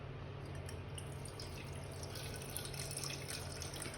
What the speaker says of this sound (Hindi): जब मैं इसको पहली बार धोकर इसका पानी खाली करूंगी तब ये बिल्कुल दूधिया पानी होगा